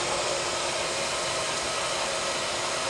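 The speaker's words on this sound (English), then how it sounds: "There's the pump and the air tank." A water pump with an air tank runs in a steady, loud, even whir close by, with no talking.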